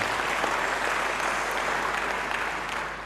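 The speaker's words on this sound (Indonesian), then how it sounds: "Beri tepuk tangan bagi dia." A church congregation applauds during a sermon, steady dense clapping from many hands at a moderate level, continuous for a few seconds and tapering slightly at the end.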